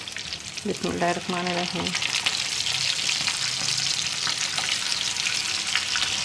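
Peshawari chapli kebabs of minced meat sizzle and crackle steadily in hot oil on a lowered flame, a close, continuous frying hiss, with someone briefly speaking over it at the start.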